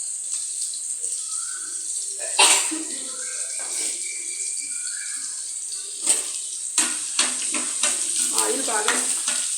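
Hot oil sizzling and hissing steadily in a kadai before frying shrimp, with scraping stirs and faint clinks over the continuous sizzle, no talking.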